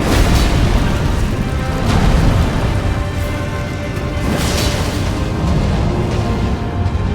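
The Fire Giant's ball attack exploding in Elden Ring, a loud, sustained roaring blast with rumbling bursts that swell and fade across several seconds.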